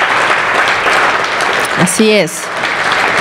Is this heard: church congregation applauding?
yes